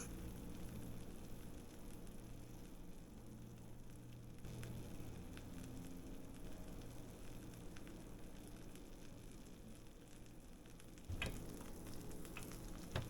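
A Reuben sandwich grills in a panini press, giving off a steady, moderate sizzle and frying crackle that runs throughout, with a slightly louder burst of sizzling near the end.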